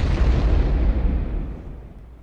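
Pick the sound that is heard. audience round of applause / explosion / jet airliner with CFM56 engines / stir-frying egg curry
explosion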